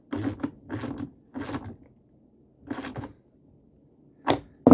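A wrench tightens the plastic mounting nuts of a Dometic 320 RV toilet: four short close ratcheting bursts in a row, then a pause and two sharper clicks near the end, with no voices.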